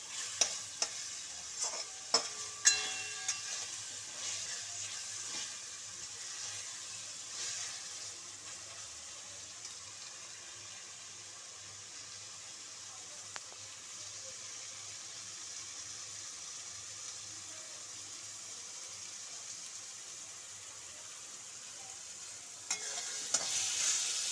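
Marinated chicken cooking down with spices in a kadai for chicken kosha, a soft continuous sizzle with a few clinking stirs near the start and end, otherwise quiet and even.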